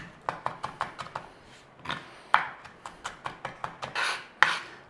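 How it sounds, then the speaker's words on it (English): A knife mincing garlic on a chopping board, quick sharp taps in rapid bursts with brief pauses, close and clear with a faint scraping in between. "Mince up some garlic."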